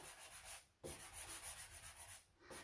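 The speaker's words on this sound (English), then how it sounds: "I'm going to come back with my very fine grade sanding sponge again. And I'm going to go over the top of this." A very fine grade sanding sponge rubbed over a transfer on a furniture piece, giving quiet rhythmic scratchy strokes with two brief pauses, close up and alone.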